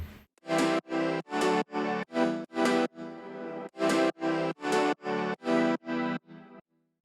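Wide, layered EDM synth chords from a remake of a song play as a steady run of about a dozen punchy, sustained stabs, loud and close, with one brief gap partway through and a soft tail at the end.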